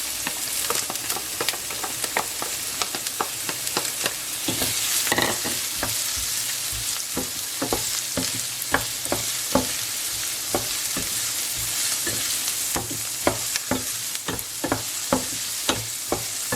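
Chopped onions frying in a pan for mutton keema curry, a continuous loud close sizzle broken by frequent rhythmic scrapes and clicks of stirring.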